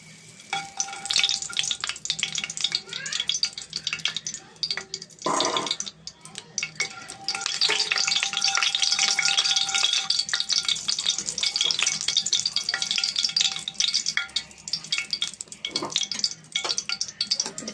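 Whole spices frying in a pan of oil with a spoon of ghee, a close, steady sizzle that grows louder midway, with stirring scrapes and a brief clatter of utensils.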